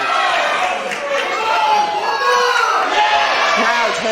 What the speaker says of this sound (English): The crowd love it, Connor. They want more.